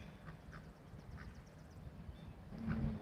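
Ducks quack a few times at a fishing lake, soft, short calls spaced out over a steady low rumble of outdoor background noise.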